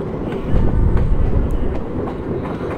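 WAP4 electric locomotive hauling an express train in the Open Rails simulator, accelerating with a steady heavy rumble, rhythmic clickety-clack of wheels over rail joints and a loud, close, continuous roll.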